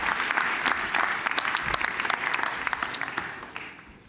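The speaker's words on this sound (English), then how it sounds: "Yeah, we can clap for him." Audience applause at a livestreamed entrepreneur panel stage event: steady, dense clapping from a crowd, sustained for about four seconds before easing off at the end.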